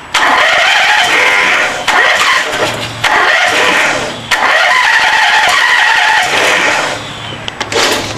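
A flooded Craftsman engine cranks hard but won't start, with loud, close grinding bursts repeating every second or so, separated by brief gaps and a few light clicks at the end.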